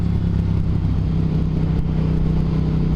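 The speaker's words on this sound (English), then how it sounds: "The rumble of this exhaust." A 2022 Triumph Speed Twin motorcycle fitted with a Tec exhaust rumbles at idle, a deep, steady, close throb that stays even and loud throughout.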